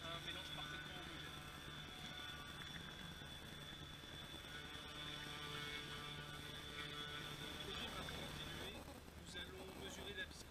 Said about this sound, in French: Nous allons utiliser une hélice mélangeuse afin d'obtenir un mélange parfaitement homogène.